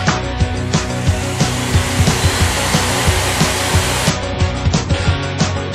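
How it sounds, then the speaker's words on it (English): A vacuum cleaner runs with a loud, continuous roar while cleaning carpet grooves choked with fifteen years of dust, with regular knocks and thumps from the tool being pushed along. "With the carpet out, I gave it a good vacuum, every single groove to get rid of the 15 years worth of dust."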